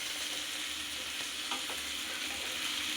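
Cauliflower and tomatoes with chillies frying in a pan for aloo gobi, a dense steady sizzle with faint stirring scrapes throughout.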